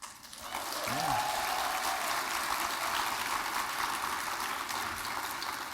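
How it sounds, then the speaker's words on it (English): A summit audience breaks into sustained, polite clapping that rises quickly and holds at an even level for several seconds, with brief speech near the start. "they clap so politely"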